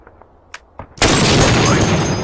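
A single heavy shot fired in the VrMaverick future combat system simulation: after a few faint clicks, a loud, close blast hits at once and rolls on as a sustained rumbling roar.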